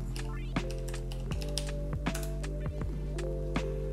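Someone types a short word on a computer keyboard, producing soft, scattered key clicks over a steady electronic hum, with a voice briefly audible.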